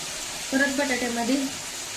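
Potatoes go into hot oil in a pan, giving a steady soft sizzle with a brief voice over it.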